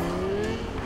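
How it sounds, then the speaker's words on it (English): A car engine in the Cyberpunk 2077 video game, with a V10-like tone, hums steadily and loudly and rises slightly in pitch over a brief second, with no talk. "it sounds like a V10"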